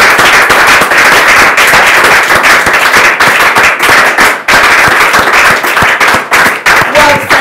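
Loud, dense applause from an audience after a talk on fatherhood, with sharp crackling claps filling the whole stretch and no break.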